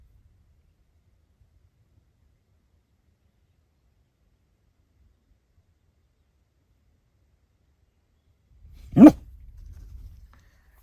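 A single sharp dog bark at a deer rings out after a long stretch of near silence, followed by a short burst of low rustling.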